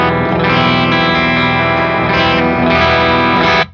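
A Cort KX507 Pale Moon electric guitar on its bridge pickup through a clean amp channel strums loud, full chords with shimmering, effect-laden sustain, two ringing sections before the sound cuts off.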